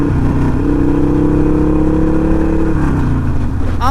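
A Harley-Davidson Sportster 48 motorcycle pulls hard under throttle on a road ride, its engine a loud, close, continuous roar with a steady rising drone and a slight dip near the end.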